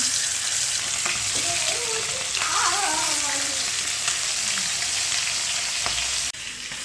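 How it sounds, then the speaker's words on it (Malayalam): Steady sizzling of onions frying in hot oil for chicken majboos fills the clip, with a faint voice briefly rising in the middle. "ഒന്ന് ഫ്രൈ ചെയ്തെടുക്കുന്നുണ്ട്"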